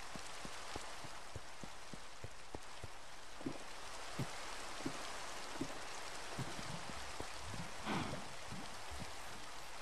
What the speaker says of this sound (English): Sound like rain.